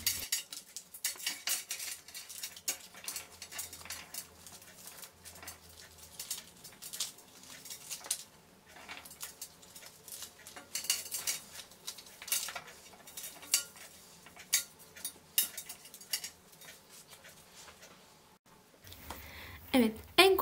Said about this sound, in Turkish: en kolay şekilde aslında tokmaklayarak arkadaşlar narın içerisini temizliyoruz